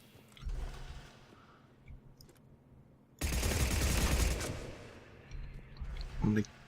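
Automatic gunfire with heavy recoil in Mass Effect 3, a dense sustained burst of rapid shots lasting about a second and a half in the middle, with softer game ambience and quieter sounds on either side.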